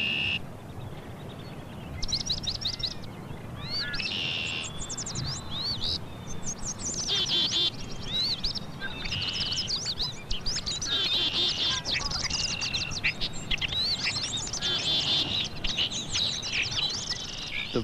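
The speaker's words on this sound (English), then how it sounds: "The voices of birds are as distinctly personal as our own." Many birds sing and chirp in a busy outdoor chorus, overlapping high whistles and trills throughout, fairly close with a soft background hiss and no talk.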